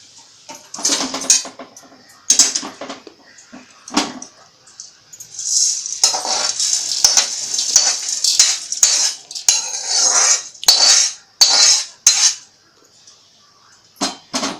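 Roasted chana dal is scooped out of a pan with a metal spoon, giving loud close scraping and clinking strokes in irregular bursts with brief pauses between.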